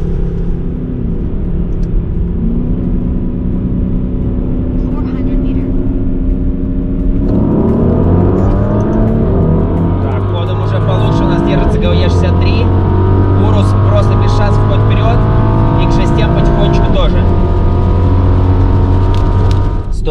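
A BMW X6M, Mercedes-AMG GLE 63 S and Lamborghini Urus accelerating hard from a rolling 60 km/h start in a drag race, a loud continuous engine roar climbing in pitch through successive gear changes, heard from inside one car.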